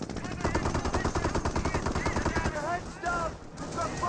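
Rapid machine-gun bursts and rifle fire in the strategy game Company of Heroes, a dense rattling fusillade with someone commentator talking over it.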